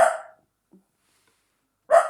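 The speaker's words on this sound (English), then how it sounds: "I'm sorry, that's my little dog." A small dog barks indoors in an apartment: two sharp, close barks about two seconds apart with a faint yip between them, otherwise quiet.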